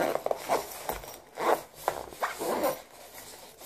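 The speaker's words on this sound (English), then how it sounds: "you just basically close this up. It's a double zip on both sides" A double zipper is pulled shut along both sides of a herbal survival kit bag, a series of short, close rasping zips in quick bursts, quiet and alone.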